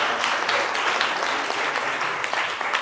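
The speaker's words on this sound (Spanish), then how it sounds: "Un aplauso para Hassan por atreverse" Audience applause at a live therapy talk or workshop, a steady dense wash of clapping from many hands, loud and close, sustained throughout without pause.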